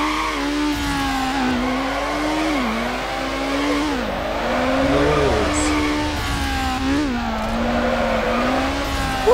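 A Honda Civic drifts in Need for Speed Underground, its engine droning and rising and falling while tires squeal, loud and sustained, with little talk.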